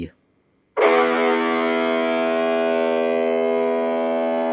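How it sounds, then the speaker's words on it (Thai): A single low guitar note from the sixth string tuned to E rings out after a brief silence, holding steady and bright with rich overtones for several seconds. "สายหกจะเป็นเสียงอี"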